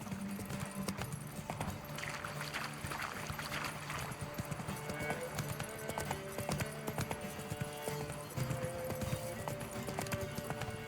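A horse gallops in The Witcher 3: Wild Hunt video game, its hooves beating in a quick, even rhythm that stays faint and distant throughout.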